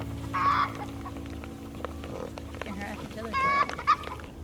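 Chickens and other fowl in a farm yard where piglets are kept, giving a few short squawks and honk-like calls, two louder bursts near the start and end, over steady low background noise.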